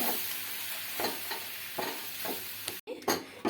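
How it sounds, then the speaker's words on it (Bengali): Milk stirred into flour in a pan for white sauce, soft scraping spoon strokes over a low sizzle, close and steady, with a brief cut near the end. "প্রথমে এভাবে দিয়ে ভালোভাবে ময়দার সঙ্গে মিশিয়ে নিচ্ছি"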